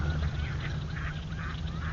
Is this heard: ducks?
yes